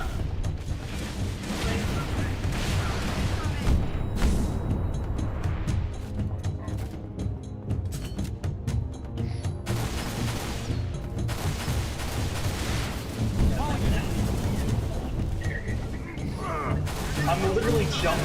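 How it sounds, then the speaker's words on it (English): Thumping explosions and gunfire in the Halo Reach video game, a dense, continuous barrage of booms and shots that stays loud for the whole stretch, with no pause. "listen to the frickin' thump thump explosions."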